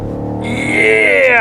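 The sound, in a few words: BMW X6 M50i engine revving in Sport Plus mode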